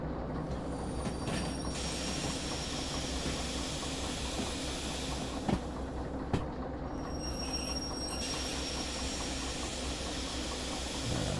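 Train rolling along in the simulator Derail Valley, a steady dense rumble and hiss of wheels on rail with a couple of sharp clanks partway through, continuous and fairly close, no talk.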